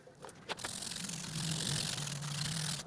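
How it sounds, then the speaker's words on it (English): A stiff brush scrubs foamy tire cleaner into a car tire's rubber sidewall, giving a close, steady rasping swish after a few brief knocks at the start. "All right, let's do some scrubbing."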